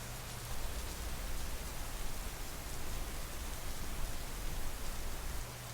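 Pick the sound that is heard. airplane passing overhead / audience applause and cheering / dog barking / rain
rain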